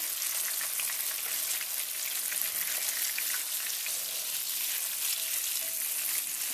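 Catfish pieces and nuggets fry in hot oil in a pan, a dense, even crackling sizzle that holds steady throughout, close and fairly quiet, with no voices over it.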